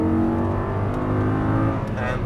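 An Audi R8 engine pulls hard under throttle on a racetrack, a loud, steady, close engine roar with rising tone heard from inside the car.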